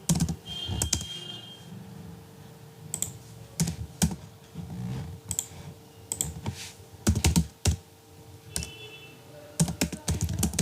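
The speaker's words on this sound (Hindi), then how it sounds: "हम just simply click on are place holders and type what ever" Computer keyboard typing in bursts of clicky keystrokes with pauses between, heard close and alone with no talk, as text is entered into slide placeholders in a PowerPoint presentation.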